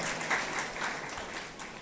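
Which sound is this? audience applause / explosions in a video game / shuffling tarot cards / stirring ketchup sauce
audience applause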